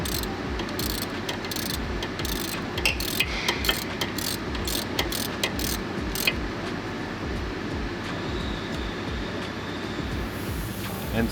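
Hand ratchet tightening a 10mm bolt on the front suspension top mount of a 2009-2012 Lexus LS460 AWD, with steady rapid clicking that runs nearly unbroken throughout, close and clear, with no talking.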